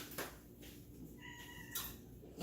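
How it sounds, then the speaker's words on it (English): Luna the cat gives a single short meow in the background of a home kitchen where carrot cake is being baked, faint against light room clatter. "if you hear that meow in the background"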